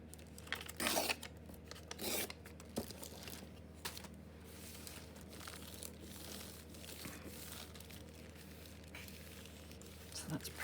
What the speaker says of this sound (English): Now I'll rip this off a bit.